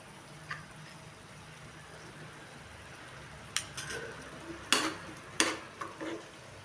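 Okra and red and green bell peppers sautéing in a pan with salt, giving a low steady sizzle broken by several louder scraping stirs toward the end.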